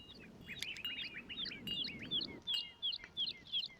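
Birds chirp and tweet outdoors in a rapid run of short, high calls over a low background rumble, moderately close and fairly quiet, with no one talking.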